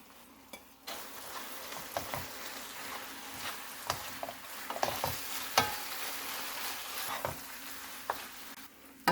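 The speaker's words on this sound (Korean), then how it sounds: "마늘대는 살짝만 볶아줍니다." Onion and garlic stems stir-fried in a pan give a close, continuous sizzle with repeated scraping and tossing strokes that grow busier midway, alone without talk.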